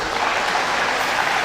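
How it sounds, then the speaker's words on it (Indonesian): Brief steady applause breaks out from an audience at a university installation ceremony and seminar, honouring the rector with a dense wash of clapping close by and no pause. "Tepuk tangan untuk Pak Rektor dulu lah"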